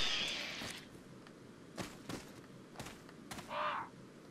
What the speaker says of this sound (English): It's okay, guys. Just a crow.